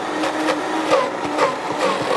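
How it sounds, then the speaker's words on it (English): A kitchen blender whirs steadily through cooked ingredients, a continuous close motor roar with slight pulsing surges as the contents spin, no voices over it. "So we're going to put these in the blender."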